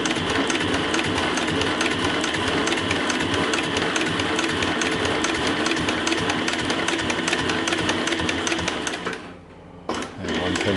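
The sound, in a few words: Cowboy CB 7273 sewing machine stitching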